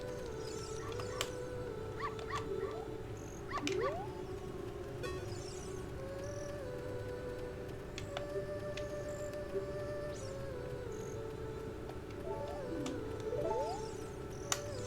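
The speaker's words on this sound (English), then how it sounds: "There's lots of doggies out at night, apparently." Dogs howling and whimpering at night around Hyrule city in the Ocarina of Time video game, repeated yips and howls over a steady ambient game background.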